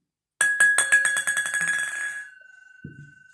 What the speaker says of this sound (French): Ça, c'est une balle de ping-pong dans un tambourin.